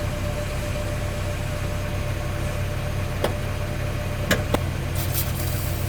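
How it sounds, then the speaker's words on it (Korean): A 2002 Hyundai Avante XD idling steadily after a muffler reassembly, a low even engine hum throughout with a few brief sharp clicks and hisses near the end. "이제 앞에 가서 시동을 걸어줍니다."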